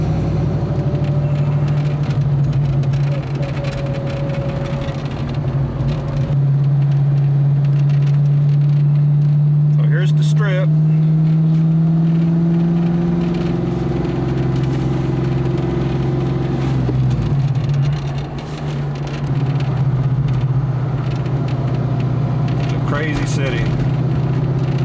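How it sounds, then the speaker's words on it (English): A car pulls away in third gear while cruising the Las Vegas Strip at night. A steady, loud engine drone rises slowly in pitch, with a person talking over it. "taking off in third gear"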